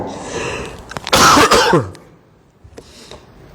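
A loud, harsh cough burst close by during a religious talk, followed by quieter throat noises and a faint second cough-like sound.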